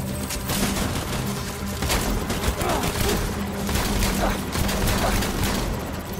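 Dense, continuous gunfire from Death Stranding, likely shotgun or handgun, rapid overlapping shots forming a loud, sustained barrage with talk mixed underneath.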